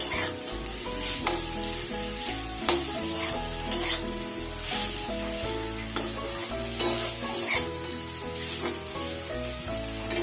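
Spices and Kashmiri chilli powder fry over a low gas flame for a pointed gourd curry, giving a continuous close sizzle with regular clinks and scrapes of stirring against the pan, and no voices throughout.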